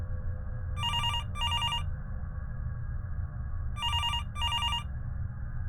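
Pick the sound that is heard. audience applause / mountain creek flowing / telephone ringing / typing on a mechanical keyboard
telephone ringing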